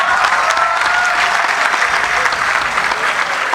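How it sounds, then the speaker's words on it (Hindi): Loud, even applause from an audience at a Hindi poetry recital, a dense wash of clapping sustained without pause. "जगीरा खत्म हुए, तालियां बजाइए।"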